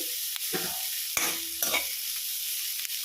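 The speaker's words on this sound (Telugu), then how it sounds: "ఇవన్నీ వేగాలండి బాగా లోన్ కలర్ వచ్చే వరకు వేగాలన్నమాట" Ingredients frying in peanut oil until browned, a soft steady sizzle with a few scraping stirs and clinks, close up and without voices.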